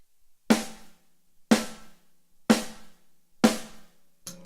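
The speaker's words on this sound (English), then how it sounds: "I'll just show you the difference between a normal hit" Four evenly spaced snare drum hits, about one per second, each a sharp close attack with a short ringing decay, played alone in a drum lesson setting.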